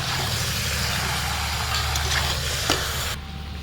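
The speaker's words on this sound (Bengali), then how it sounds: "দিয়ে এবার ভালো করে নাড়াবো" Chicken being stirred in a pan after salt is added, with loud continuous frying and sizzling, a spoon scraping throughout, and a single sharp clink near the end before the sound drops off.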